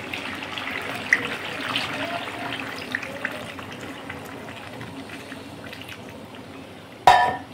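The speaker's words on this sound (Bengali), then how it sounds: "জল দিয়ে দেবো।" Water is poured into a pot of chicken curry on the stove, a soft, steady hiss and trickle at low volume, ending with a sharp metallic clank.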